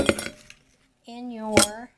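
Ice put into a cocktail shaker, with a few sharp clinks and rattles of cubes against metal and glass, then a voice speaking and one more bright clink near the end.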